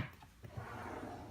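A scrapbook storage drawer slides open in a craft room, a brief, faint scraping rumble close by.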